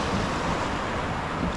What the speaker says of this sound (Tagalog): sinasabi ko sa iyo, may alon.